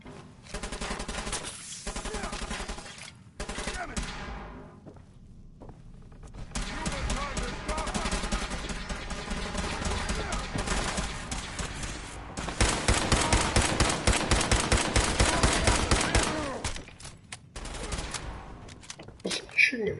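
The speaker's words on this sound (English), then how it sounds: "Was someone shooting at me from over here?" Automatic gunfire in the video game Fallout 4, loud, close rapid bursts that break into short pauses and then swell into long, dense volleys.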